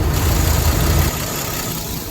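An old truck engine idles steadily outdoors on a freezing morning just after a cold start, a loud continuous low rumble with a slight drop in level partway through and no talking.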